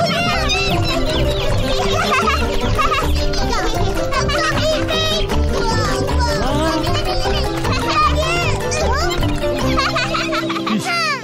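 Chickens and chicks cluck and cheep in a cartoon, a busy, continuous chorus of bird calls layered with music and cartoon voices.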